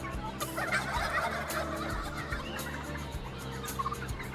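Turkeys on a Minnesota turkey farm gobble in repeated bursts over a constant low barn hum, a flock chorus heard at moderate distance and fairly quiet.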